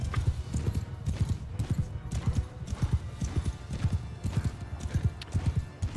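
Horses galloping in the Mount & Blade 2: Bannerlord video game, a rapid, uneven clatter of many hoofbeats throughout, close and steady, with an occasional whinny mixed in.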